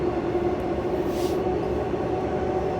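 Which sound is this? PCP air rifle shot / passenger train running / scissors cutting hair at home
passenger train running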